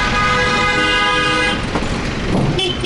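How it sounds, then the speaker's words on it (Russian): A car horn blares loud and continuous from a vehicle close behind on a street, held steady for about three seconds with traffic rumble underneath. "а сзади машина. Она нам гудит."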